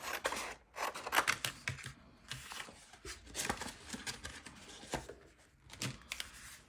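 Scissors cut through doodled collage paper in a series of close, crisp snips with rustling between the cuts, quiet and without talk.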